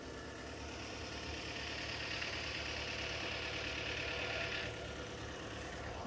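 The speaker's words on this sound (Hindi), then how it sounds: "डीजल गाड़ी का इंजन देखो ठंड में ऐसा साउंड करता है यहाँ पर" A steady, low diesel vehicle engine idling nearby in cold weather, a continuous rumbling drone with a slight rise in hiss midway, no voices.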